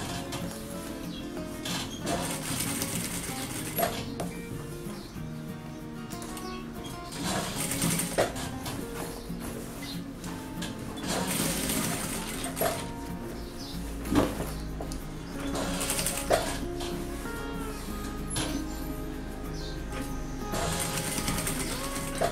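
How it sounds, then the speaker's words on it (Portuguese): A sewing machine stitches a fabric bag in bursts of rapid mechanical whirring, stopping and restarting as the work is turned, with clicks and clunks of handling between runs, close and without talk. "Você vai girando e costurando."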